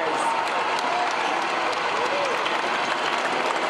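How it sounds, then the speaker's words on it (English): A crowd applauds and cheers for the Los Angeles Lakers as Western Conference champions, a dense, steady wash of clapping at moderate distance with some talk beneath it. "the applause is much louder"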